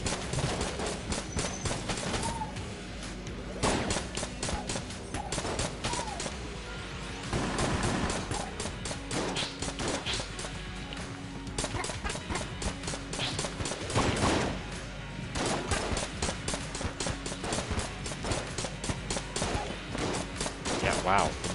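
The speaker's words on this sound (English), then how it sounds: "Should probably just use the nail gun" Rapid, continuous nail gun fire in Enter the Gungeon, fast repeated snappy shots running throughout with in-game effects and occasional louder impacts layered in.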